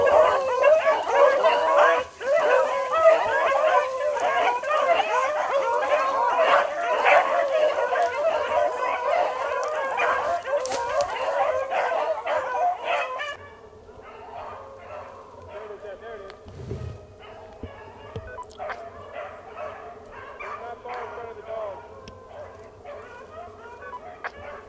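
Rabbit hunting dogs bark and yelp on a chase through rough Virginia terrain, with eager overlapping barks that are loud at first, then drop to fainter, more distant yips; voices are heard nearby.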